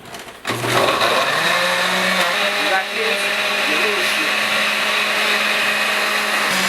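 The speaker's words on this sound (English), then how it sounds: "Lost the top to my blender." A blender motor whirs loudly and steadily after a brief start, a constant high-pitched grinding drone that holds without pause.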